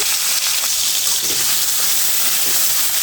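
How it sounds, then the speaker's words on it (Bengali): Prawns frying in a pan for a tomato prawn curry, giving a steady, close, continuous sizzle and hiss that runs unbroken throughout without any talk. "এখন আমি চিংড়ি মাছটা সুন্দর করে ভেজে নেব।"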